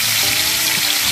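Fresh fish frying in hot oil in a pan, a loud continuous sizzle filling the whole moment with no talk.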